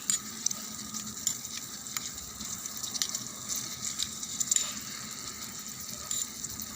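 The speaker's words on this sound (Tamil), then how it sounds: "இப்போது வந்து நல்லா கரண்டி வச்சு ஃப்ரை பண்ணுங்கள்" Brinjal pieces fry in a pan with a steady close sizzle and hiss, broken by light scraping taps from a ladle stirring them, with no talk.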